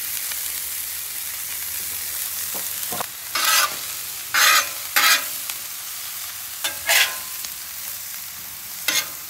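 Onion, peppers and mushroom cook on a Pit Boss griddle with a soft background sizzle, interrupted by several short, loud bursts of sizzle as the food is stirred or turned.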